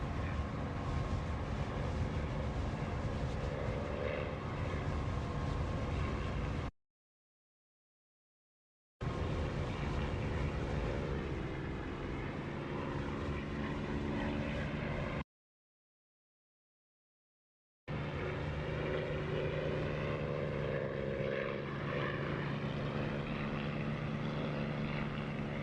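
A military aircraft engine in the DCS flight simulator game during landing on a taxiway, a steady loud propeller-like drone with tonal hum, in three long stretches separated by silent gaps, no talk.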